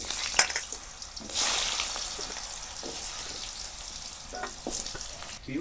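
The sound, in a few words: potatoes frying in a kadai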